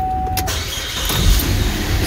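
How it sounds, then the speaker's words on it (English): After an evaporative emission purge valve repair, a car engine cranks briefly and catches at once, settling into a steady idle close by. "Starts right up like a charm."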